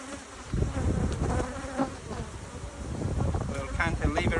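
Angry honey bees swarming and buzzing around an opened hive during requeening, a dense, close, continuous drone with gusts of wind noise and a person talking over it.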